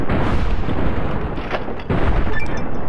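Dense, continuous gunfire and booming blasts from combat in the video game Fallout New Vegas, loud and sustained throughout with no talk.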